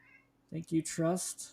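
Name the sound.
cat meowing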